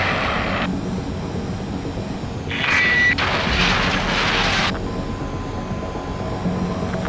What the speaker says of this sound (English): Attempting to land. I don't think my plane will make it.